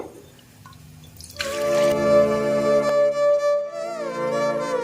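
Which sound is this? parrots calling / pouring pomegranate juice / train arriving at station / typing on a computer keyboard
pouring pomegranate juice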